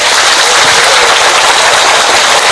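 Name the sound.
audience applause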